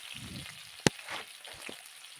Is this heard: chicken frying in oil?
yes